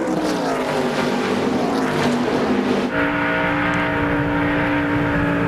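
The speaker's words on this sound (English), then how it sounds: "Hear him squeeze off that throttle over off turn 2" Jeff Burton's race car at the 2001 NBS South Carolina 200 roars loudly through turn 2, then the engine note drops abruptly as he lifts off the throttle, with other cars droning nearby.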